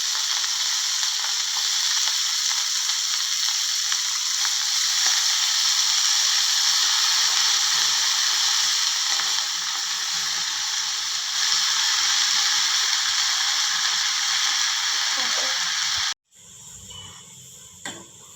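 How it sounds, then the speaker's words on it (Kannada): Washed chickpea greens fry with onions in a pan, giving a loud, steady close-up sizzle and hiss for about sixteen seconds before it drops abruptly, followed by a quieter stretch with a few scraping stir sounds. "ಇವಾಗ ಈರುಳ್ಳಿ ಫ್ರೈ ಆಗಿದೆ. ಇದಕ್ಕೆ ನಾನು ತೊಳೆದಿರ್ತಕ್ಕಂಥ ಕಡಲೆ ಪಲ್ಯನ ಹಾಕ್ತೀನಿ"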